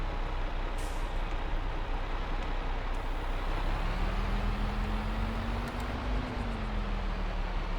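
New Holland T6 tractor engine in Farming Simulator 22, working a field: a steady, continuous low drone with a slight pitch rise partway through, heard alone.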